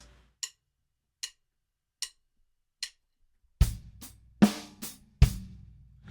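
Drum fill of 16th note triplets on a kit: first a few sparse, light clicks like a count-in, then a close, loud run of kick and snare or tom strokes, no talk.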